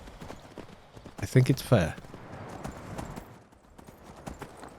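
Horse hooves clip-clop on the ground while riding in Skyrim, a steady trotting rhythm running under a voice, with a louder burst of noise partway through.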